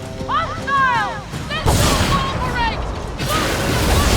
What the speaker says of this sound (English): hold off on the mortars. Dude, those mortars are sick, dude